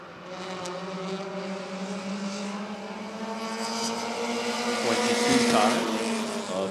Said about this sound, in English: Eight laps still to number 44, caught with the early lead of Todd Snow